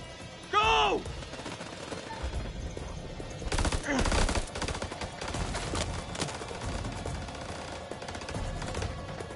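Gunfire in Dark Pictures: House of Ashes during a firefight on a ridge, rapid bursts of rifle shots crackling at moderate loudness over ambient battle noise, with a shouted voice near the start.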